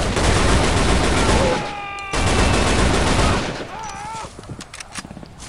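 Loud, sustained bursts of rapid automatic gunfire with metallic pings in the video game Shadow Ops: Red Mercury, Chechnya level, then a pause and scattered light clacks of casings hitting the ground as the shooting fades.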